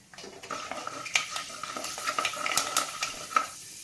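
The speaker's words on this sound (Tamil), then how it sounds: "கடுகு வெடிக்க ஆரம்பிச்சிருச்சு." Mustard seeds splutter and pop in hot sesame oil in a pan, with scattered crackles and a faint sizzle plus occasional utensil clinks, close and moderately loud.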